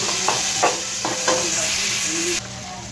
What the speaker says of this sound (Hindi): अब हम डाल देंगे टमाटर, भुनी हुई प्याज,